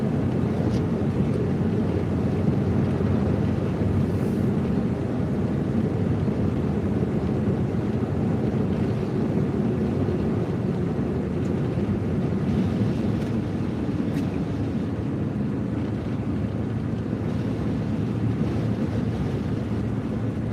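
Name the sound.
strong winter storm wind blowing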